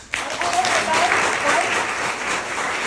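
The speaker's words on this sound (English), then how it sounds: "If you applaud, I will cut down time on the speaker that you're applauding." Applause breaks out from the audience at a New York State Assembly candidate forum, a sudden burst of many hands that stays broad and steady for a few seconds, with some talk beneath it.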